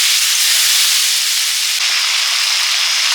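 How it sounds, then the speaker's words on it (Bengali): Water poured onto spices with green and red chillies, chili powder and salt frying in a pan gives a loud, close, continuous sizzling hiss that holds steady throughout with no talking. "জল দিয়ে মশলাটা কষে নিচ্ছি।"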